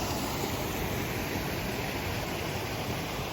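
A stream runs through Sage's Ravine in Massachusetts as a close, dense, steady rush of water, unbroken and fairly loud, with no voices over it.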